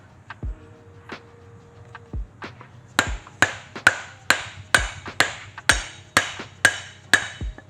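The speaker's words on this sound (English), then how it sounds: "I'm gonna grab a socket and hit down on it" A socket being struck with a hammer to drive a suspension spline on a 2022 Ford F-150, with a few sparse taps and then about ten sharp, evenly spaced metallic blows, close and loud.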